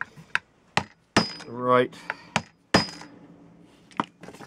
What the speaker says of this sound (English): that makes it a lot easier to hammer in those side staples